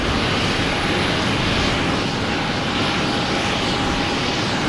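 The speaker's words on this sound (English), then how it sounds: "American Airlines A319." An American Airlines Airbus A319 jet roars steadily at Boston Logan Airport, a loud continuous broadband engine rush with no break, filling the scene on its own without any talk.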